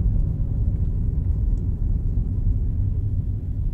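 Steady, low engine rumble and road noise from inside a car driving across Kyiv, continuous and even with no talking.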